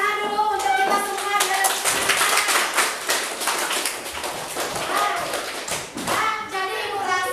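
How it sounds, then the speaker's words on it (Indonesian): Schoolchildren and their teacher clap their hands together in a classroom, a burst of rapid, irregular claps and taps over several seconds, with a voice heard at the start and again at the end. "Nah, tepuk tangan dulu untuk kita semua."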